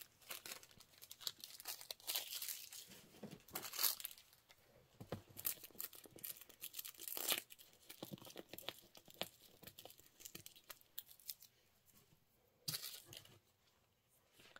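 Embroidery stabilizer being torn away from a leather keychain piece, in close, crisp bursts of ripping and crinkling with quiet pauses between pulls.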